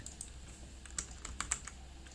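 Quiet clicks on a computer keyboard, a short irregular run of keystrokes over a faint background hum, with no talking.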